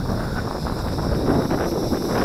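Steady wind buffeting the microphone outdoors while a WLToys V636 Skylark small RC quadcopter is flown, a continuous loud rushing roar throughout.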